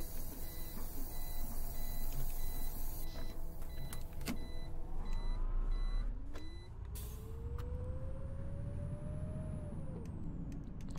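An Irisbus Axer bus in the simulator game OMSI 2 idles and then pulls away, its engine whine rising in pitch through the gears, with a steady interior drone and occasional clunks throughout.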